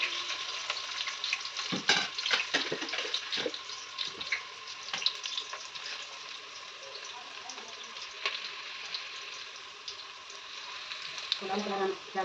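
Onions fry for an egg gravy with a close crackling sizzle, clattering stirs early on and a steadier hiss later, with a brief low clunk near the end.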